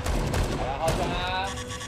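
Gunfire in the video game Dead Rising 4, dense bursts of rapid shots from a soldier fight, rattling continuously at close range under excited voices talking.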